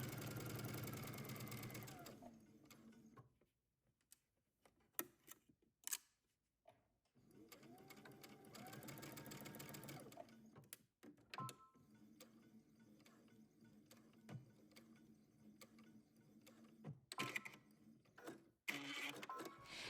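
Sewing machine back-stitching then sewing a seam on a house dress, with a short faint mechanical run at the start, quiet handling gaps, then softer intermittent stitching whirs and clicks.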